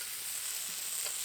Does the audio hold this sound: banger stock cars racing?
no